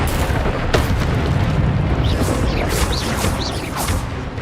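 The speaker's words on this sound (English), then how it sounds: "Expelliarmus will disarm you brutes." The Expelliarmus disarming spell is cast in Hogwarts Legacy on PS5 as a loud, steady rushing blast with booming low rumble. Rising whistle-like chirps flicker through it toward the end.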